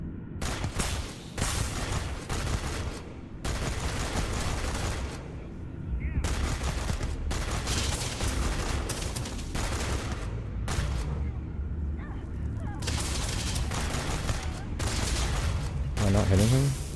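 Gunfire from the video game Starfield, dense bursts of rapid shots separated by brief gaps, loud and close, with a voice talking in places over the shooting.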